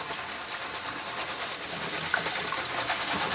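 Water rinsing rice in a strainer to wash off the starch, a steady broadband hiss of running water held at an even level throughout, with no talk.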